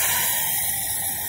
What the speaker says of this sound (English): Pouring the second addition of petroleum ether